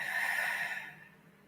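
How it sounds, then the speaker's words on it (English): One long deep exhale, close and breathy, starting full and fading gently to quiet within about a second. "we'll take 3 deep breaths together,"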